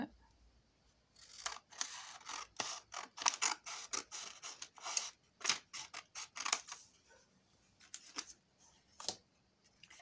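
Scissors snip repeatedly through paper envelope flaps, a quick irregular series of crisp close cuts with short pauses, trimming pieces for a handmade mini album.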